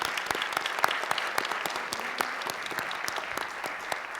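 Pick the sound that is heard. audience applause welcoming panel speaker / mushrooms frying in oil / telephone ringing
audience applause welcoming panel speaker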